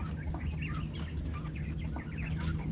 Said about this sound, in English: they're just sitting in there cooing